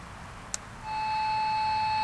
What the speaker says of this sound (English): You can hear that tone in the background.